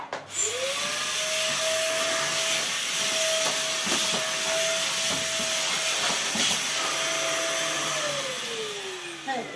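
A vacuum cleaner runs in a child's bedroom during cleaning. It makes a loud, steady close-up drone with a high whine that rises as the motor starts and drops away as it stops, with no talking.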